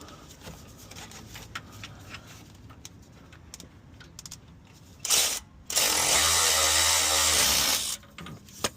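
A power tool, likely an impact wrench or ratchet, tightens alternator bolts on a 2004 Nissan Frontier, with two loud bursts near the end, a short one and then a sustained run of about two seconds, after quiet workshop background.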